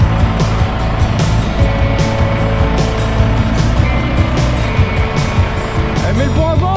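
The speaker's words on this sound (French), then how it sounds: "moi je vais nettoyer le fumier là-bas avec le micro-tracteur" A micro-tractor engine runs steadily and loud, up close, while poultry manure is cleared, its rumbling drone holding through with brief higher clanks and scrapes, and a voice comes in faintly near the end.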